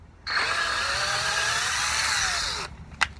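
A power drill run in reverse with its chuck clamped on a screw head whines loudly and steadily for about two seconds, its pitch sliding down a little, then stops with a click.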